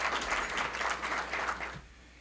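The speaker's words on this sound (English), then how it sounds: "Please join me in a round of applause for our major sponsors." An audience at a county breakfast event applauds sponsors, a dense burst of clapping that holds steady and then fades out near the end.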